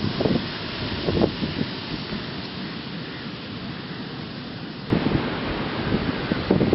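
Steady wind rushing over the seaside with broad wave wash and surf, a louder swell surging in near the end, continuous and fairly close with no voices.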